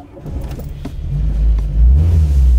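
A first-generation Volkswagen Golf on the move, giving a steady, close low rumble of engine and road noise that swells slightly toward the end, with no voices.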